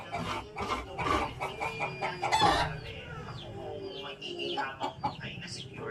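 Chickens in a rural Cavite province yard in the Philippines cluck and crow repeatedly, with close, fairly loud calls that overlap in an irregular stream throughout.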